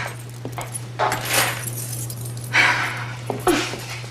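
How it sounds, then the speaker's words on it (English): A bunch of keys jangles in a house in short bursts, several metallic clinks at close range over a steady low hum, with no speech. "Keys."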